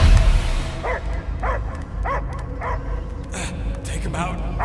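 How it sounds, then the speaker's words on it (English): A dog barks and whimpers in rhythmic, repeated yelps inside the Marvel's Guardians of the Galaxy video game, heard close and fairly loud over a steady background hum. "I hear only barking."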